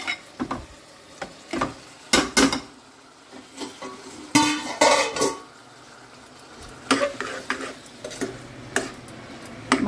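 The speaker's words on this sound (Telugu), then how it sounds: "రెండిట్లా కలిపి ఒకసారి పోపు వేసుకోవచ్చు" Sharp crackling tempering (popu) sizzles and spits in a hot pan on a home stove, coming in several loud bursts with quieter stirring and utensil clinks between them.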